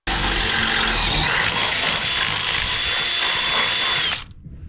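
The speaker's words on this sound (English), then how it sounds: "That 50-year-old steel, boy, or my drill bit sucks." A power drill bores a 3/8-inch hole through old steel in a 1970 Chevelle's suspension, a loud, steady grinding whine sustained for about four seconds before stopping abruptly.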